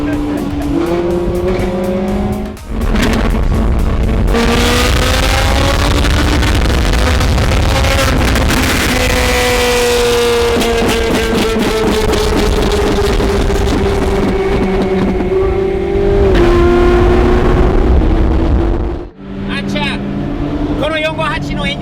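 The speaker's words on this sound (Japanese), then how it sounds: "この458のエンジン音聞きたいな。 このマフラーがすごくいい音するんだよね。" A Ferrari 458 engine and exhaust rev loudly and up close, the pitch climbing and falling in long sustained pulls broken by two brief drops in throttle.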